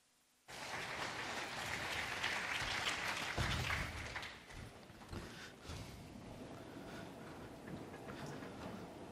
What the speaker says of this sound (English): let's give a round of applause to welcome Plani